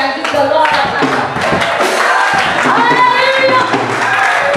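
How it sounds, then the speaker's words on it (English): A congregation at a funeral service claps hands in praise, with rhythmic crowd clapping and thumps blended with loud voices and singing throughout. "put your hands above your head and give the Lord a clap"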